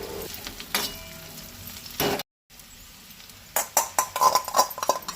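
Goan madi alu frying in a pan until light brown, a steady sizzle with clinks and scrapes of a spoon stirring against the metal, a brief silent cut midway, then busier stirring.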